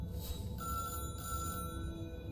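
An old-fashioned telephone bell rings in Syberia, a bright metallic trill sounding in bursts with short pauses between them, heard alone over quiet room ambience.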